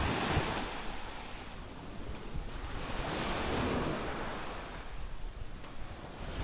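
Sea waves wash in at high tide close to a shore near houses, a steady rushing surf with slow swells rising and falling, mixed with wind noise across the microphone and no voices.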